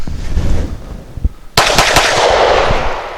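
A Canik TP9 Elite pistol fires Remington HTP 115 grain hollow points in a loud, close burst of sharp shots, a few spaced cracks followed by a rapid string of reports with echoing tail.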